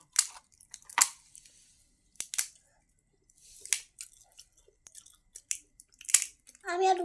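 Someone eating crunchy fuchka, the crisp puffed street snack, with several sharp biting crunches spaced out over a few seconds, close and fairly loud, between quiet pauses and brief voice sounds.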